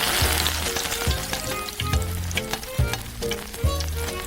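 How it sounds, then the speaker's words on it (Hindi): Onions and ginger fry in an oiled frying pan, a loud continuous sizzle with regular scraping stirs about once a second. "फ्राइंग पैन को तेल से ग्रीस करें और प्याज और अदरक को भुनें।"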